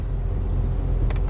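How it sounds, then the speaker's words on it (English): Road traffic rumbles around a car in slow city traffic, heard from inside an Uber as a loud, steady low drone of engine and tyres, with a brief faint hiss near the end and no voices. "I'm just currently in traffic with my Uber driver"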